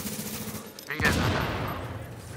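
Shotgun blast in the video game The Division, a single loud close boom with a ringing tail, surrounded by game noise and someone talking.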